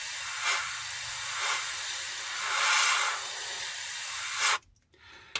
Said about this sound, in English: So we put some in the airbrush, and we're just going to very gently, close range, just spray this in.